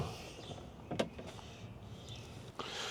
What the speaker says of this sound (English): we can now move the window up and down with ignition on to put it in the correct position where we need it